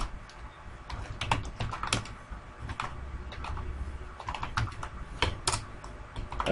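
Keys clatter on a computer keyboard as C code is typed, a dense, irregular run of close clicks with louder key strikes scattered throughout.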